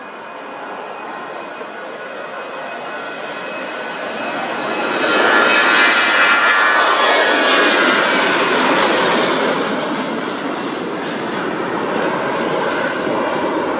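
A Ryanair jet at Leeds Bradford Airport roars steadily with loud engine noise, swelling to a peak midway and then easing slightly, heard alone from a moderate distance.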